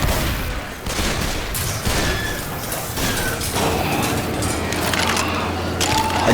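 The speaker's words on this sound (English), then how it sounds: "Shoot this thing off my back!" Rapid gunfire in a zombie shooter game, dense bursts of shots crackling continuously over six seconds, loud and close amid chaotic game noise.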